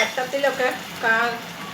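Plantain being stirred and sautéed in a hot pan, with a soft sizzle and scraping in two short bursts, close by.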